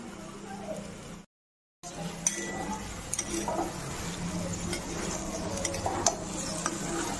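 A spoon stirs flat beans frying in ghee in a pan, with soft scraping and clinks over a low sizzle, briefly interrupted by a gap, then continuing in irregular strokes.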